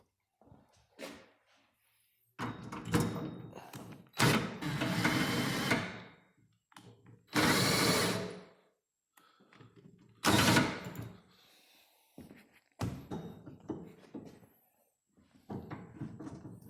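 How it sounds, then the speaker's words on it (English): Power drill chucked onto the adjustment shaft of a Craftsman radial arm saw, spinning in several loud whirring bursts of a few seconds each, separated by quieter mechanical clicks and pauses. "just chuck the drill on."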